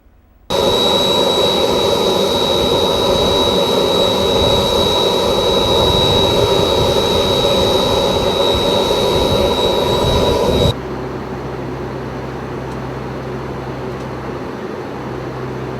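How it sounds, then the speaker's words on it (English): Cabin roar of a NOAA G4 jet in flight on a hurricane mission, loud and steady with a sustained high whine, then abruptly dropping to a lower, muffled drone partway through, no voices. "I caught a ride on the NOAA G4 jet."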